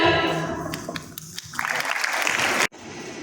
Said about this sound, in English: Let's all clap louder and louder for Srini